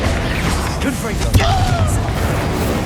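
Confringo spell explosion in Hogwarts Legacy, a sharp burst in the middle of busy combat noise with a whooshing tone and scattered impacts, while voices talk over the action.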